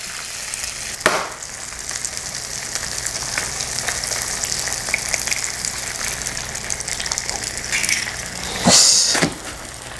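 An egg fries in melted butter in a pan, a steady close sizzle and crackle with a sharp burst as it hits the fat and another loud hiss near the end.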